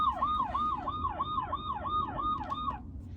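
Electronic police siren from a 12V battery-powered kids' ride-on police car, a wailing tone rising and falling in steady repeated sweeps, loud and close over a constant low background rumble, ending abruptly.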